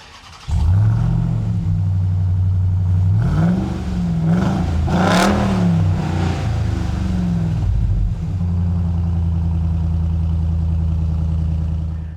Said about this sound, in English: it is just music to my ears to hear a proper V8 coming from the back of a Ram 1500 truck